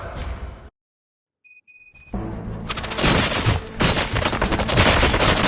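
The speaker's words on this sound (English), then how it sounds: "Gunshots? What's going on?" Bursts of rapid gunfire in the video game RoboCop: Rogue City break out after a short silence, then build into a continuous, loud barrage of shots and blasts with tonal chimes overhead.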